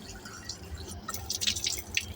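Water trickles and drips onto hands during wudu ablution, a soft irregular splashing with bright dribbles in the second half, close and fairly quiet.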